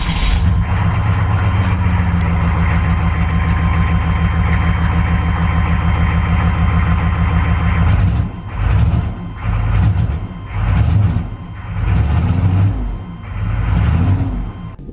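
A turbocharged car engine with a wastegate starts up for the first time, running loud and steady up close, then revs in several rising and falling bursts.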